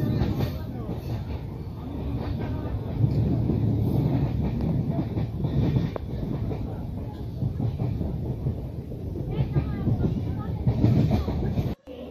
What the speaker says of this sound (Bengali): এক্ষুনি ট্রেন ছাড়বে, এক্ষুনি ট্রেন ছাড়বে